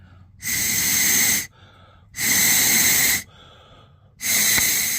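Three strong bursts of breathy, hissing air blown by mouth through a Jeep Grand Wagoneer fuel filter, evenly spaced with short pauses, close and fairly loud.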